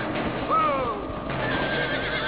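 In the Western video game Red Dead Redemption, a stallion gives a loud, close, rising whinny outside the town of Armadillo, over faint hoof clops and ambient game sound.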